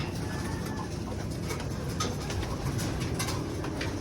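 Birds call and coo outdoors over a steady broadband background hum, with brief chirps scattered throughout.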